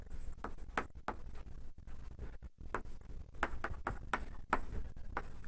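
Chalk or marker on a lecture-hall board as equations are written, a series of close scratchy strokes and taps in irregular bursts with short pauses between.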